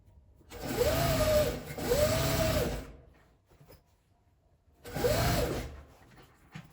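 Sewing machine stitching a zipper onto a fabric pouch, running in three close bursts: two back-to-back runs with a short reverse stitch between them, a pause, then a third run.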